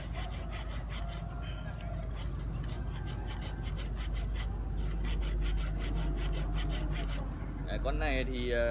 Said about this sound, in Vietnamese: Bây giờ mình sẽ tiến hành cưa nó này